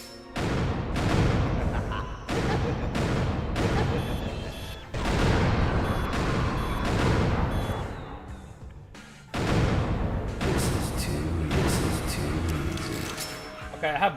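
Rapid bursts of automatic gunfire from the Killer7 video game, several loud volleys separated by brief pauses, with booming impacts and no talk over them.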